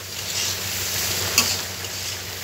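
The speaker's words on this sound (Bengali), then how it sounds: "মশলাটা দেওয়ার পরে, গুঁড়ো মশলা দেওয়ার পরে একটু কষিয়ে নিলাম।" Ground spices sauté in a pan with a soft, even sizzle throughout, close by, with one brief clink of a utensil partway through.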